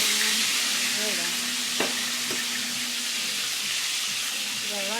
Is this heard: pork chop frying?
yes